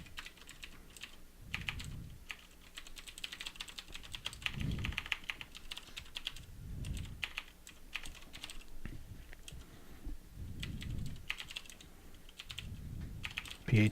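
Steady, close typing on a computer keyboard with quick clicking keystrokes, soft and continuous throughout, with no talking.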